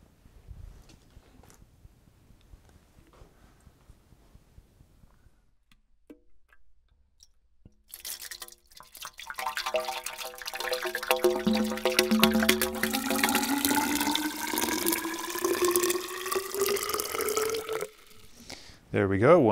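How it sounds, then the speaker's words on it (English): Water pours and gurgles into a tube, the tone rising steadily in pitch as it fills to 1 meter, after a quiet stretch of faint ticking. "Now let's fill it with water."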